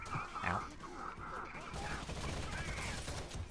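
Gunfire from the video game Rainbow Six Vegas 2 crackles quietly and almost continuously, with bursts of shots and clattering effects blended into a busy, low-level game soundscape.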